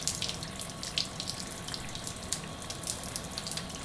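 Water from a tap running steadily onto the soil of a potted plant, soaking the root mass, a continuous close splashing and trickling with small bursts and no talking.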